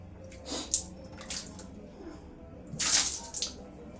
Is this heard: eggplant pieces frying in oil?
no